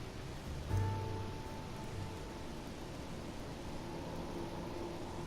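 Soft steady rain in the Death Mark video game, a faint even hiss of falling water with a brief low thud near the start, no voices.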